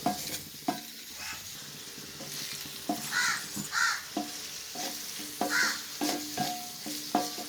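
Onions and prawns sauté in a little oil in a pan, sizzling steadily while a spoon stirs and scrapes in irregular strokes, with crows cawing now and then in the background.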